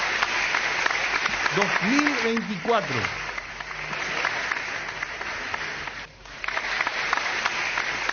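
Applause on a Paraguayan sports radio show welcoming a guest, a constant clapping texture under a speaking voice, briefly dipping before resuming.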